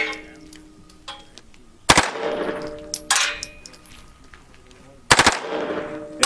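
A gun fired at close range, with three sharp loud shots spaced unevenly, each followed by a ringing metallic clang that fades over a second or so, and faint quiet background sounds between them.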